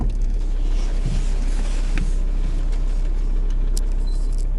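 An Audi A6 on the move, with steady low road and engine rumble filling the cabin and a few small rattles or clicks over the top.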